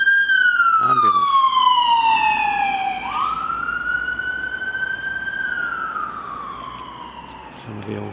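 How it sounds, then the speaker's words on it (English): A loud wailing ambulance siren passes close by in Bury St Edmunds, its tone sliding steadily down, then swooping back up and holding high before slowly fading. "Ambulance."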